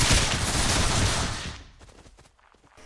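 Musket volley fire in a 1500s battle video game, a dense loud fusillade of overlapping gunshots for about a second and a half, then dropping to scattered fainter shots and echoes.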